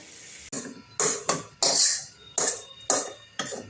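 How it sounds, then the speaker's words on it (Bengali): Metal utensils clank and scrape in a series of sharp, separate knocks as fried vegetables are moved into a pressure cooker in a home kitchen, with short pauses between strikes. "এবার আমি এটা প্রেশার কুকারে ট্রান্সফার করে দিচ্ছি"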